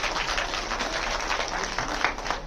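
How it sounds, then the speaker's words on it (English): Steady applause from an audience at a school folk dance competition in Kargil, Ladakh, honoring the third prize winners, a dense continuous wash of clapping held at even loudness throughout. "Give them a huge round of applause."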